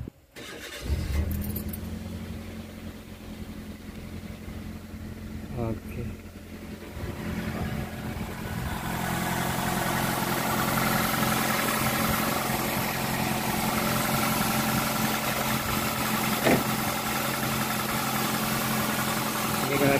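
A Toyota Avanza engine cranks and catches at about one second, then settles into a steady, fairly loud idle that continues to the end, with a person briefly speaking near the start.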